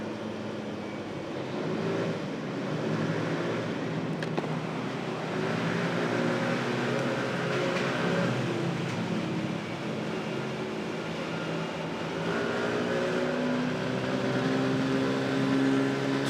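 A motorcycle engine echoes inside a road tunnel. Its steady, droning roar is smeared with reverberation, holds at a constant moderate level with slight surges over about sixteen seconds, and no one talks over it.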